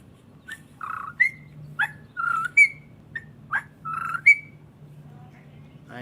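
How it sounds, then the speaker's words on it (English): Whippoorwill calls repeat in short whistled bursts, several sharp rising notes spaced about half a second apart over a steady low hum, with no voices. "Whippoorwill."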